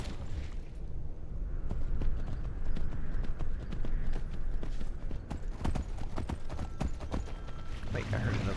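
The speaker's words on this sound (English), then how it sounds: "Horsey, get away." A horse's hooves clip-clop in a steady, fairly close rhythm, with a voice speaking over the hoofbeats throughout.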